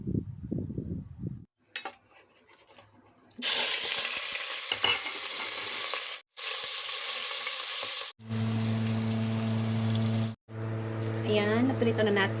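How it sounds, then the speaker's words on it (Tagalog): Anchovies (dilis) and pork fry in a hot pan, giving loud steady sizzling with stirring scrapes that runs through most of the stretch, broken by brief gaps and a steady hum toward the end; a voice speaks briefly at the start. "Iprito muna natin. Pati itong dilis."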